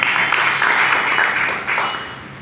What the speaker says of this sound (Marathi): एकदा पुन्हा आपल्या सर्वांसाठी टाळ्या वाजवा